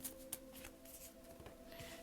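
Tarot cards being shuffled in a daily reading session, a soft papery riffle and brushing that runs continuously and quietly for about two seconds, with a couple of sharper slaps near the start.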